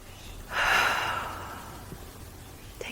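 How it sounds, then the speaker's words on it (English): One deep breath drawn in and slowly let out, close to the mic and fairly loud, a long airy inhale-exhale on its own with no talk. "Just take a deep breath."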